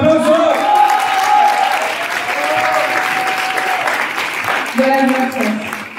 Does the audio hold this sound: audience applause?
yes